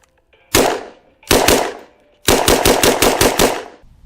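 Shots ring out from a 10mm Kriss Vector 16-inch carbine: one sharp report, then a quick double, then a rapid string of about seven shots, loud and close, with no talking.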